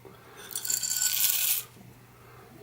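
About ten grams of coffee beans are poured into a Niche Zero grinder in one rattling, clattering rush lasting a little over a second, then go quiet.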